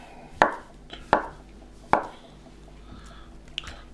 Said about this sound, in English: slice up your mozzarella.